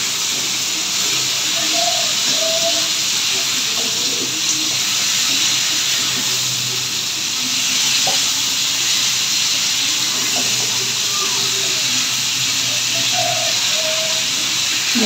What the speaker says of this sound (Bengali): এখন মশলাগুলা আর লাউটা একসাথে একটু ভেজে নেব।